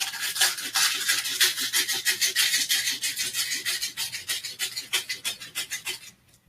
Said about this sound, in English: take some of that sandpaper and we're gonna form the tip